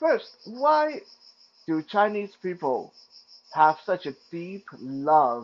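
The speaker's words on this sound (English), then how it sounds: "Chan ming is the song of cicadas." Cicadas sing a thin, steady, high-pitched drone throughout, faint beneath someone speaking continuously.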